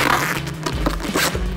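Packing tape is pulled and handled during parcel wrapping at a Nova Poshta post office, giving a steady scraping, ripping texture up close with no speech.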